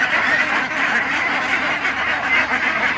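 Dense, continuous quacking from about two hundred ducks on a duck farm, loud and steady like a crowded flock with no pauses.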